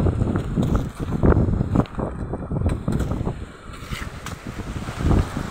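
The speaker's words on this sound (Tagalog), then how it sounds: "Lakas po ng hangin guys." Strong gusting wind on a banana farm buffets the microphone in loud, uneven roaring bursts, with a faint wash of water underneath.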